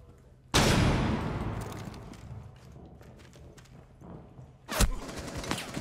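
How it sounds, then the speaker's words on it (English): A flashbang grenade goes off in Rainbow Six Siege: a sudden loud burst that rings and slowly decays over several seconds. A second sharp blast follows near the end, with faint shuffling between. "Throwing flashbang."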